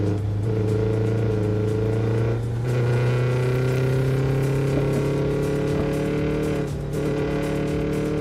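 Car engine in the Neverness To Everness video game, a steady loud droning note holding high revs with slight pitch shifts and brief dips as gears change, heard alone.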